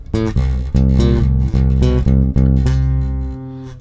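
An instrument plays a quick run of musical intervals, about eight sustained notes struck in steady succession, loud and close with rich ringing overtones and no voice over it.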